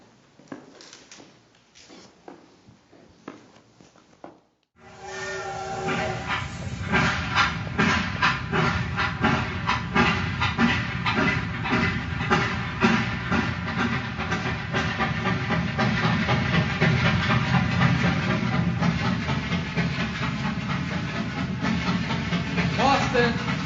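A steam train gets under way after a quiet, talky opening, then chuffs and hisses loudly with a rapid, steady rhythmic beat and clattering wheels that build and hold for the rest of the stretch.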